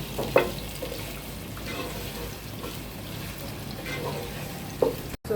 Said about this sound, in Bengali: তো পেঁয়াজটা একটু ভাজা হয়েছে,